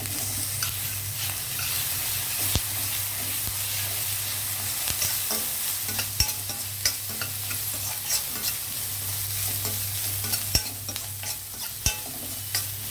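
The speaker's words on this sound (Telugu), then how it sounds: "ఈ ఉల్లిపాయలు వేగేటప్పుడే మనం ఈ అల్లం వెల్లుల్లి పేస్ట్ వేసి వేగనిద్దాం" Sliced onions frying with ginger garlic paste in a pan, a steady loud sizzle with intermittent scraping and clinks from stirring, under a low constant hum.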